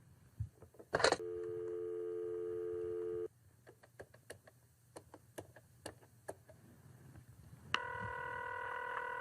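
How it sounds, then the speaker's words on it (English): Telephone busy signal: two steady electronic tone bursts separated by a gap with scattered faint clicks, heard clearly and fairly quiet on a phone line. "It's busy."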